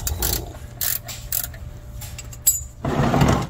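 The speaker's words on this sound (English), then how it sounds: "Mine's a 5/8, so you just need a 5/8, either ratchet or wrench." A ratchet works loose the tight 5/8 oil pan drain plug on a 1996 Jeep Cherokee, giving short bursts of metallic clicking with pauses between strokes, then a longer, louder stretch of ratcheting near the end.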